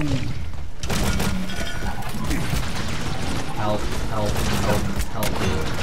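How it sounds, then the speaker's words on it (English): Gunfire in Dredge gameplay: a dense, continuous barrage of shots and crashes fills the clip, loud and chaotic, with game noise and a voice talking underneath. "Oh, I'm being shot at!"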